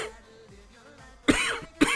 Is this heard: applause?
no